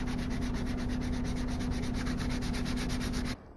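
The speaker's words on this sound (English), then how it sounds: "Working on the sword, doing some sanding." Continuous rapid abrasive rubbing of sanding a miniature sword, close and steady with a fast pulsing texture, stopping abruptly near the end.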